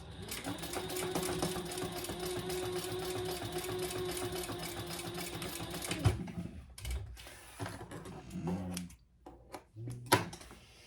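Sewing machine stitching a quarter-inch seam on a fabric bowl koozie, a steady, fast mechanical whir lasting about six seconds before stopping, then quiet fabric handling and small knocks.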